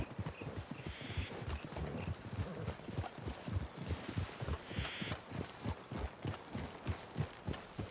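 Horse hooves clip-clop in the Red Dead Online video game, a steady rhythmic series of close hoofbeats with faint background game sounds and a brief whinny-like tone.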